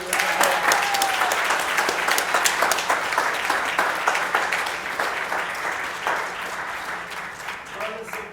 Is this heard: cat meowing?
no